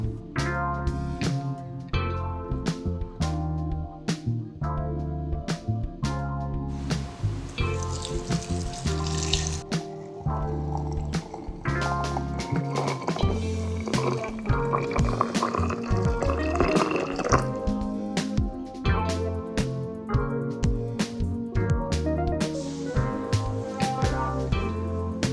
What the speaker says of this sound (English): Place your soap in a heat-proof jar and then pour warm water all over it.